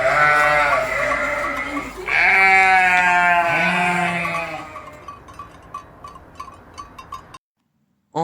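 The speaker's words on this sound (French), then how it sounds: "Même les moutons dans les bergeries se font entendre dans leur grognement joyeux." Loud, close sheep bleats from a sheepfold, two long wavering calls one after another, fading into a quiet patter of soft ticking sounds.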